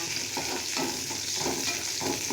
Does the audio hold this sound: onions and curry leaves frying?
yes